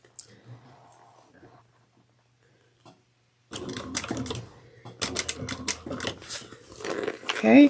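A sewing machine stitches a seam in fabric for a drawstring satchel, starting after a quiet stretch as a rapid run of clicking stitches in bursts, with a voice speaking alongside.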